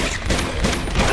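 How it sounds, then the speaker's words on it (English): Rapid gunfire from Uncharted 2 on PS4 comes as a dense, loud, continuous burst of shots with no pause and no talk. "Oh, I guess I'm gonna shoot."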